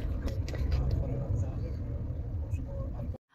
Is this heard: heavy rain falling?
no